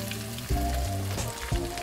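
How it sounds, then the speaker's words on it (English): Spinach cooking in a frying pan in a backyard kitchen, a close, loud crackling sizzle that spits and pops continuously with a few sharper bursts. "So I like to put the spinach in the same pan and let it cook"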